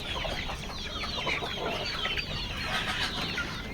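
Desi village rooster and young chicks on a country poultry farm, with many overlapping clucks and high chick peeps forming a busy, close, continuous chatter without talk.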